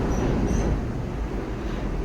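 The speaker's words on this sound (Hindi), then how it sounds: "दिल्ली हावड़ा रूट की सभी एक्सप्रेस ट्रेनें और भी मालवाहक गाड़ी भी इस पर चलती है, मालगाड़ी" A train runs through Chunar railway station on the Delhi–Howrah route, where express and freight trains pass. It makes a loud, steady, close rumble of wheels and carriages with no pauses.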